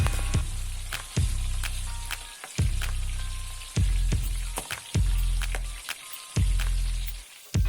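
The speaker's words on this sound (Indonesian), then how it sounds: "ini tinggal kita goreng aja sampai matang" Food deep-frying in hot oil in a pan, a continuous loud sizzle broken by repeated low thumps and crackles as pieces are moved, with no talking.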